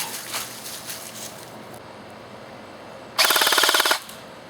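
An airsoft gun wired with a Tamiya connector fires a rapid full-auto burst through a chronograph, a dense buzzing rattle lasting under a second, loud and close after a stretch of quieter background.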